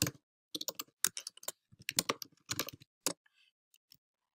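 Email address typed on a computer keyboard, a quick run of close, crisp key clicks in short bursts with brief pauses between them.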